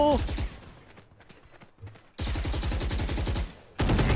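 Video game gunfire erupts in rapid automatic bursts, loud and close, separated by quieter stretches with scattered distant shots and a voice-like sound early on.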